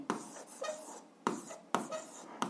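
Pen on paper writes out a formula by hand, giving close scratchy strokes in short bursts separated by tiny pauses, with sharp taps as the pen touches down.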